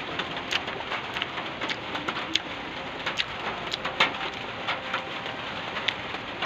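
Steady rain falling outdoors during a signal number 3 typhoon, a dense continuous wash with scattered sharper drops and a few bird calls over it, fairly loud and constant with no voices.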